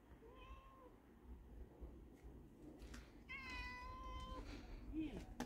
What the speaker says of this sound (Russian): это какие-то дворовые коты